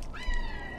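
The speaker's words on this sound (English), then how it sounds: "Why is he meowing like that? Is he hurt?" A cat meows in the video game Stray, a single drawn-out, rising cry heard close and clear over a soft game backdrop.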